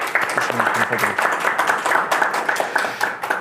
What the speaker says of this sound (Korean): 발표해 주신 김우겸 상무님께 여기 현장에 계신 분들이라도 큰 박수로 주시면 감사드립니다.